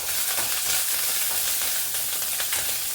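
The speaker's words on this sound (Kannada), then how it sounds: "ಈಗ ಕರಿಬೇವು ಹಾಕ್ಕೊಳ್ತೀನಿ" Curry leaves sizzle and crackle in hot oil for a tempering, with dried red chillies already in the pan; a steady, close, dense frying hiss runs throughout with no talk.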